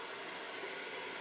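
A hair blower runs steadily, a constant loud airy whoosh and hiss with no breaks, alone without talk.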